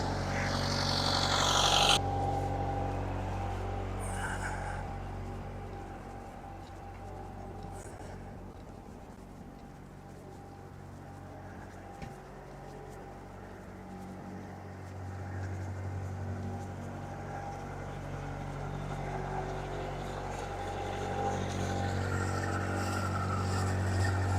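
A cold-started engine idling steadily at about 1500 RPM, a low continuous rumble heard at moderate distance, with a brief louder moment at the start.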